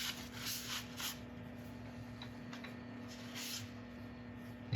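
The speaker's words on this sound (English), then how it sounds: "Just a light wipe, just to pick up excess." Cloth wiped lightly over shellac-finished burl wood, a soft rubbing swish in a few short strokes, faint and close against a steady low hum.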